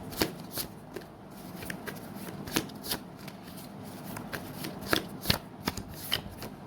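Tarot cards are shuffled by hand up close, a continuous papery riffle with sharp slaps and snaps at irregular intervals and no voice over it.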